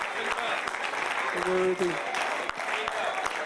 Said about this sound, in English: You get a Lord a hand clap of praise as we go back to our seats